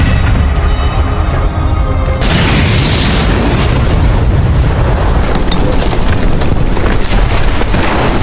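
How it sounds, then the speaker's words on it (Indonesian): A cave being blown up by an explosion: a loud, sustained roaring blast of rumbling noise that fills the whole stretch, then cuts off abruptly. "Bronson pun berhasil meledakkan gua itu."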